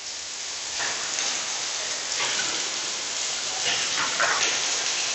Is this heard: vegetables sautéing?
no